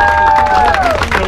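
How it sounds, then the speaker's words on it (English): Crowd clapping and cheering at a skate shop grand opening in Boyle Heights, loud and close. Dense applause mixes with whoops, a sliding whistle and voices calling out. "Yeah, give them a round of applause."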